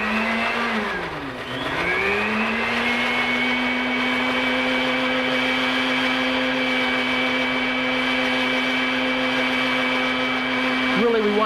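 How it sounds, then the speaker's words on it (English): Kitchen blender running steadily on an olive oil mixture for a tuna dish, a loud continuous motor whine that dips briefly near the start as it bogs down, then holds constant to the end. "So get our lid on here. We're going to blend this up."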